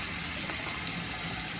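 Water runs steadily from a tap while a makeup brush is rinsed, a continuous close, even hiss with no pauses.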